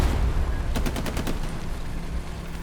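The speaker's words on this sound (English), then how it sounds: "They're just using it as a mobile MG platform to burn his outposts" A short burst of about six machine gun rounds fired from a vehicle in Hell Let Loose, evenly spaced and fairly close, over a low rumbling battlefield background with no talk.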